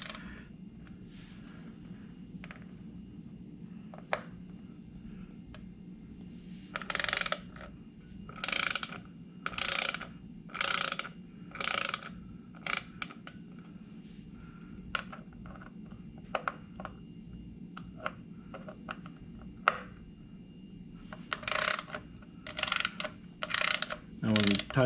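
A ratchet backs bolts out on a 2018 Harley-Davidson Fat Bob during its 1000-mile service, giving repeated close, loud bursts of rapid clicking separated by short pauses and occasional single clicks.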